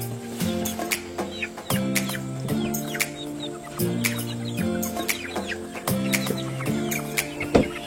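Ayam ketawa laughing chickens clucking in a repeating rhythmic pattern of rapid cackling bursts, close and continuous with many short sharp notes, no speech heard.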